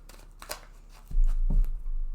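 Tarot cards being handled and drawn from a deck, a few soft papery slides and flicks followed by a brief louder rustle and tap, close and quiet.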